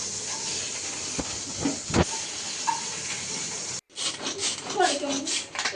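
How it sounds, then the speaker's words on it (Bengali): Spice paste with ground nuts sizzles steadily in hot oil for a chicken curry. The hiss is close and continuous, with a few faint clatters. It cuts out for a moment near the end, then resumes. "মশলাটা তেলের মধ্যে কষিয়ে নিচ্ছি"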